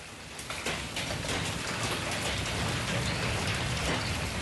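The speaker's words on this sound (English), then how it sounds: "Sounds like the hail's kind of dying down a little bit here." Hail falls during a severe thunderstorm: a dense, loud, continuous patter of impacts on surfaces, steady throughout with no pauses.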